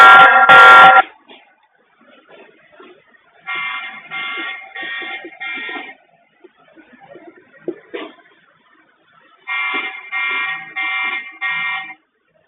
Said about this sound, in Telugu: ఎప్పుడైతే మనం కెమెరాని టచ్ చేసామో అప్పుడు కూడా మనం బజర్ రావడం స్టార్ట్ అవుతుంది